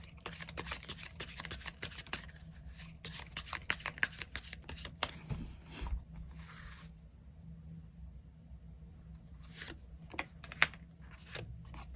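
A deck of tarot cards is shuffled by hand nearby in rapid bursts of crisp riffling and flicking, with brief pauses between them. The sound is fairly quiet and alone, with no one talking over it.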